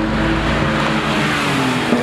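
Straight-piped Porsche 997 GT3 engine roaring nearby, a loud sustained rasp with a steady low tone throughout.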